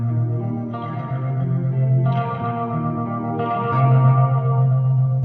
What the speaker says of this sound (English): the chorus is acting upon the part of the signal that is reverb and delay